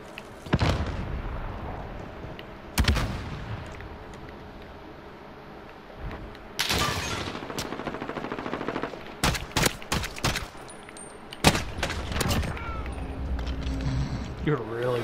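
Bursts of hip-fired gunfire in a Search and Destroy round of a shooter video game, several sharp loud volleys and scattered single shots spread across the stretch, with players talking over the action throughout.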